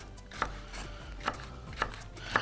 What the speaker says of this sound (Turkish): Dörtlü beşli tık tık tık mis gibi doğradık.